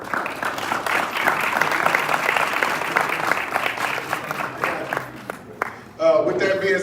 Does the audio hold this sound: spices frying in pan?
no